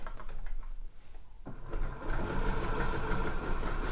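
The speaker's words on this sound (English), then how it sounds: "by zigzagging all the way along that raw edge" A sewing machine zigzag-stitches along a raw fabric edge, first softly and then, after about a second and a half, a loud, steady, fast mechanical whir, with no talking.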